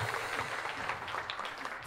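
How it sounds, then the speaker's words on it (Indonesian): Steady, dense applause from a congregation at a church service, continuous and fairly distant throughout the short stretch, with no voices standing out. "Ayo beri tepuk tangan yang meriah buat Tuhan"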